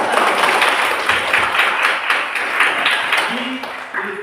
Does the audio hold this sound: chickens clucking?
no